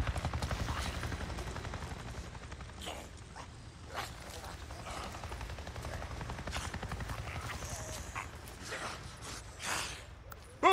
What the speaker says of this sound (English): A Nero chopper! It just buzzed right over me